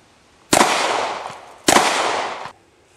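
Two sharp, loud pistol shots ring out at a shooting range about a second apart, each a sudden crack followed by a reverberant tail that lingers before fading.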